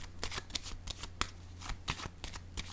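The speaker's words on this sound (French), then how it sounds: "Je vais déposer une carte ici." Tarot cards are handled close by on a table, with a run of quick papery flicks and slaps and one sharper tap partway through, heard alone without talk.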